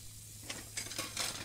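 Dishes being washed in the horror video game Emily Wants to Play Too, with faint splashing, clinking and scrubbing bursts that grow denser toward the end, quiet and close, no voices.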